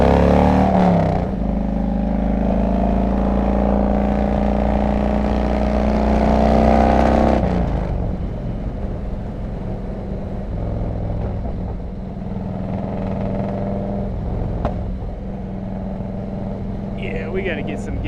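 A Harley-Davidson Road King Classic with straight pipes and 39-inch fishtail exhausts rumbles steadily while riding, a deep continuous engine drone that eases slightly partway through, with someone talking over it.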